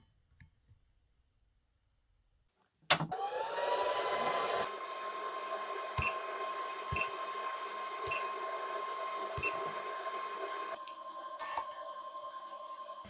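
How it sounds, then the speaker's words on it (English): A laser welder fills the injector ports on a Datsun L28 part. After a quiet start comes a sharp click, then a steady close hiss and hum with a faint whine, marked by soft periodic ticks and a second click near the end. "now I'm ready for welding"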